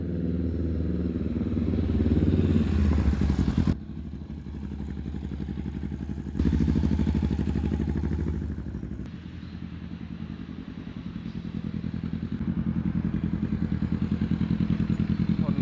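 A Honda Rebel 500 motorcycle engine idling and revving with a low, pulsing rumble, rising and falling in a few swells, heard up close.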